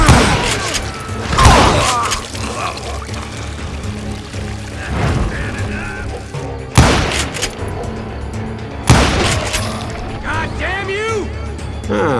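Gunfire from the Western video game Call of Juarez Gunslinger, with several loud blasts and booms spaced across the stretch amid a rushing, pouring-like ambience, while voices talk over it.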